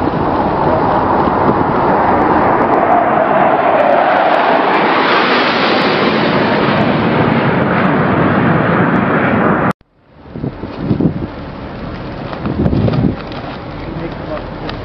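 A military aircraft passes low across a ship's flight deck at bridge-wing level during naval drills, a loud rushing roar that swells and holds for about ten seconds, then cuts off abruptly, leaving wind buffeting and faint activity.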